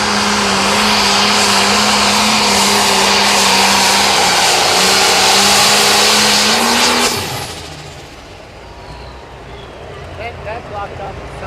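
A 9500 limited pro stock tractor roars loud and close during a tractor pull, holding a steady droning howl for several seconds before the engine note drops sharply and fades into quieter background noise and crowd sound.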